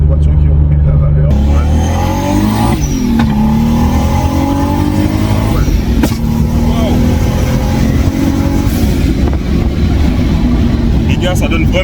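A Lexus IS200 with a swapped big-turbo Supra 2JZ engine, missing a cylinder, roars close up as it accelerates hard, the pitch climbing and dropping through several gear changes with a turbo-like whoosh.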